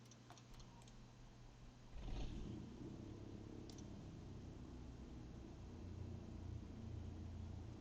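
A Cessna 172 Skyhawk piston engine in Microsoft Flight Simulator 2020 catches and starts with a thump, then settles into a steady low rumbling idle that carries on evenly, with a few faint clicks at the start.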